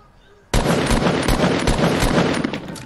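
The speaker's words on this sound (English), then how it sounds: "Thanos is shooting at me as well." Rapid gunfire in the Fortnite Battle Royale video game, a dense, loud burst of automatic shots that starts abruptly and keeps going, with steady rattling bursts throughout and no clear talk.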